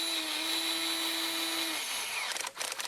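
A power screwdriver drives flat-top screws into the front cover of a Kirby Generation vacuum cleaner, whining steadily up close and then stuttering into short bursts as each screw seats.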